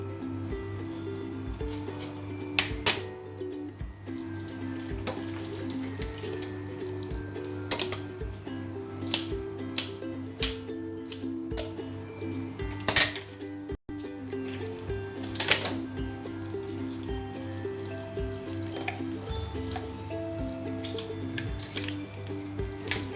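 A knife cuts a whole raw chicken into barbecue pieces, giving soft, wet squishes and small clicks and taps over steady background music.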